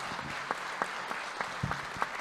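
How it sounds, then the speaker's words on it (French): An audience at a conference forum applauds a speaker, with light, fairly soft clapping from a modest crowd and a few distinct claps standing out over the steady patter. "Merci Alain, je crois qu'on peut vous applaudir."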